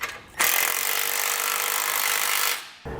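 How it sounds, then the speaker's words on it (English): A power socket tool runs in one steady, loud, whirring burst of about two seconds, snugging down the base plate hardware with a 19 mm socket on a 2018 Jeep JK Wrangler. "come back with our socket. I'm using a 19, you can also use a 3/4, and we'll snug it down"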